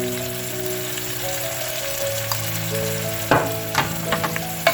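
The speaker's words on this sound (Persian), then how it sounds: "گوشت و پیاز رو با هم دیگه تفت میدیم که گوشت رنگش عوض بشه." Meat and onions fry with garlic powder and turmeric for saffron chelo gousht, a steady close sizzle with occasional scrapes and clinks of stirring.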